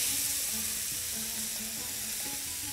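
Onion, celery, leek and garlic fry in ghee as the base mixture for stuffed pigeons, giving a continuous bright sizzle with faint crackles that holds steady and close throughout, with no talking.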